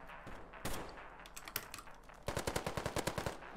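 AK-74M automatic fire in the video game Ironsight: scattered short bursts, then a fast, evenly spaced string of shots near the end, fairly close and crisp with no talk over it.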